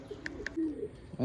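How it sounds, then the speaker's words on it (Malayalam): Soft low coos from racing pigeons in a loft murmur close by, joined by a couple of brief higher chirps and a louder burst near the end. "നമ്മളെ കൂട്ടിൽ പറക്കണ പ്രാവിനൊക്കെ ഒന്ന് പരിചയപ്പെടുത്തി തരാം"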